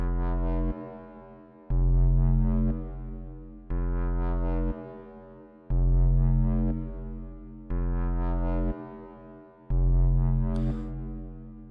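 A low, buzzy synth tone through Ableton's Echo delay, synced to a slow time, pulses in long repeating swells, each note echoing and fading slowly before the next.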